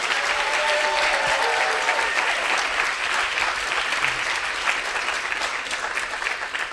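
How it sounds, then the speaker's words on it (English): An event audience bursts into sustained applause, dense clapping from many hands filling the room at a steady, loud level for several seconds before easing slightly toward the end. "Let's give her a round of applause."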